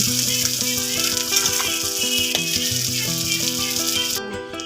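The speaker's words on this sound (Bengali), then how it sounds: "চিংড়ি মাছটা একটু হলুদ লবণ দিয়ে সুন্দর করে ভেজে নেব" Steady hissing sizzle of prawns coated in turmeric and salt frying in hot oil in a pan continues throughout, with crackles and faint rhythmic rattling beneath, cutting off abruptly near the end.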